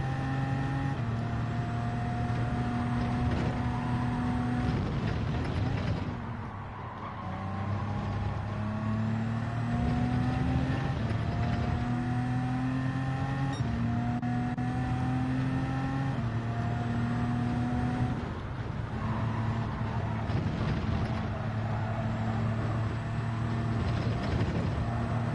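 A Gran Turismo 7 race car engine held in 7th gear, a steady loud drone with gently rising and falling pitch as speed shifts, running continuously with a brief dip partway through.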